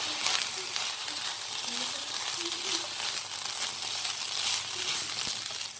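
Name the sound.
stirring fried rice in a hot pan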